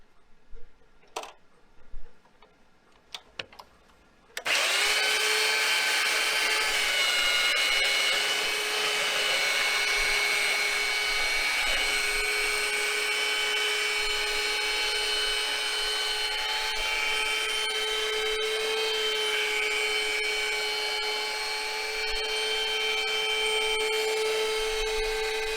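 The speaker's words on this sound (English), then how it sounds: "I'll get this thing sanded down to my liking." Power sander working a slab of wood for a barbecue chopping block, a few light knocks and clicks first, then a loud, continuous whine with a steady pitch that runs without a break.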